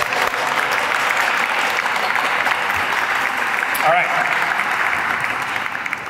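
Crowd at a Hispanic Heritage Month closing ceremony giving a round of applause for an honoree, a steady, loud wash of clapping throughout, with a brief spoken word partway through.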